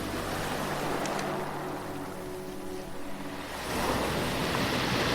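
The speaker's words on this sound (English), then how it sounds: "As you walk, you hear the waves crash" Ocean waves washing on a beach at low tide, a continuous soft surf roar with wind noise, swelling louder toward the end.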